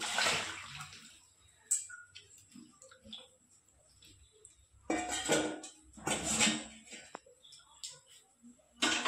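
Potatoes added to a pan of jackfruit, with irregular clattering, scraping and wet tumbling bursts against the pan, close and moderately loud, separated by quiet gaps.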